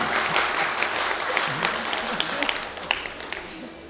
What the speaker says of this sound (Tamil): எழுத்தாளர் கைதட்ட மாட்டீங்களா?